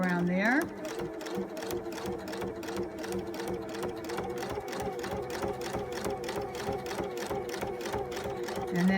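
A sewing machine fitted with an echo quilting foot stitches around an appliqué shape in a fast, even run of needle strokes, with someone talking over it throughout.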